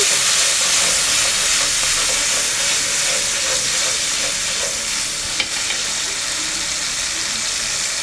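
Tomato fries in a pan for an Egyptian pasta sauce, a dense, continuous sizzle and hiss with soft stirring scrapes, loud and close throughout.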